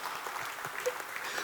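Steady audience applause at a talk on tokenizing financial instruments under EU regulation, a dense even wash of many hands clapping at moderate level throughout, with no voices.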